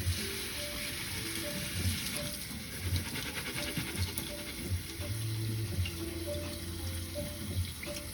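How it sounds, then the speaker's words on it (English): Raw seasoning is rinsed under a running kitchen tap, giving a steady splashing water stream with faint patter and light handling sounds throughout, with no one talking. "I like to rinse it, so I'm gonna rinse it over here."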